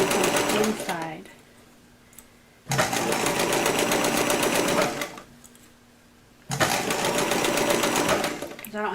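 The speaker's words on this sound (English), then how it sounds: "I'm sewing from the inside." A sewing machine stitches sculpted animal feet for a costume, running in two long steady bursts of rapid mechanical whirring, separated by quieter pauses with the motor stopped. Someone talks near the start.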